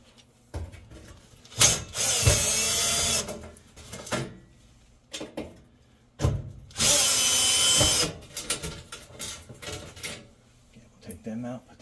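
A power drill backs screws out of the burner tray of a Samsung gas oven in two loud whirring bursts, separated by quieter handling clatter close by.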